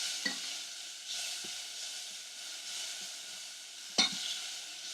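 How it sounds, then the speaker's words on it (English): Lardons fry in a pan with a quiet, steady sizzle, and a few soft taps and scrapes sound as they are dabbed while cooking. No one speaks. "I'm just going to keep dabbing them like this, okay, while they cook so that they release their own fat."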